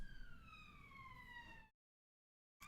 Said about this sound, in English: Sirens in the chat.